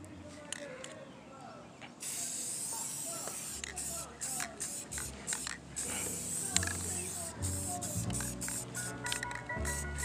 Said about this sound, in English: and we're gonna go ahead and spray